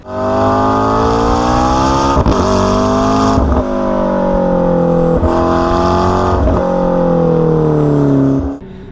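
A loud, raspy 700 hp McLaren 650S Spider engine with an aftermarket exhaust revs repeatedly nearby, each climb in pitch followed by a brief drop, with a harsh, aggressive exhaust tone.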